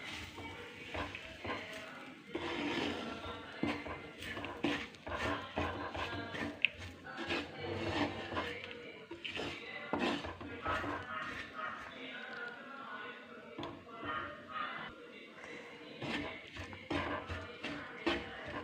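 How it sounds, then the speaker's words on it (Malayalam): Spoon stirring ginger tamarind curry (inji puli) in a pot, with frequent soft scrapes and clinks against the pot over a faint sizzle, close and fairly quiet while a person talks throughout. "ഒന്ന് ഇളക്കി നോക്കാം, എന്നിട്ടിടാം."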